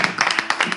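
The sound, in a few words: audience applauding the guest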